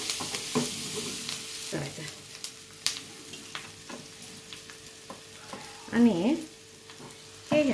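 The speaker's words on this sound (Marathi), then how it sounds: "लाल तिखट कांदा असा छान भाजून घेतला की" Onion with red chilli powder frying in a pan, with a soft continuous sizzle and intermittent stirring scrapes; a person speaks briefly near the end.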